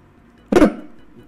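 A voice imitates a microphone cutting out when someone yells: one short, harsh, noisy burst that quickly fades into quiet.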